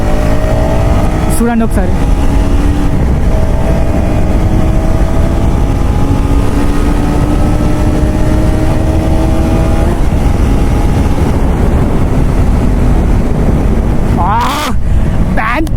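A 2026 KTM Duke Gen 3 motorcycle engine drones loudly while riding, its pitch rising and falling with the revs under heavy wind rush, while someone talks over it.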